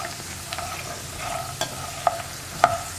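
Peanuts are stirred as they fry in oil, giving a soft, steady sizzle broken by a few sharp scrapes and clinks from the spoon, close and without talk.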